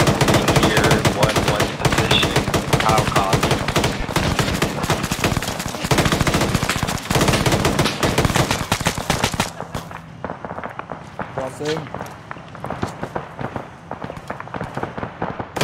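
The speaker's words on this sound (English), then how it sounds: "Shots coming from somewhere else." Dense automatic gunfire rattles in a military simulation video game, heavy and continuous for several seconds, then thins to scattered shots and fainter bursts, with some voice chatter underneath.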